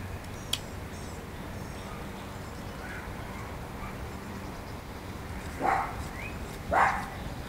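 A dog in a backyard gives two short barks a moment apart, somewhat distant, over steady outdoor background noise.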